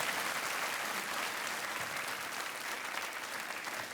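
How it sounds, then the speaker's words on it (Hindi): Studio audience applause on a television quiz show, a steady, even wash of many hands clapping at moderate distance, unbroken by talk. "तो तालियां बजती रहनी चाहिए।"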